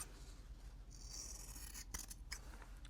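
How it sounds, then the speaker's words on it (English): Scissors snip along a line through quilting fabric in a few quick, close cuts, with a soft rasping slide of the blades just before. "This time I'll cut on the line with a pair of scissors"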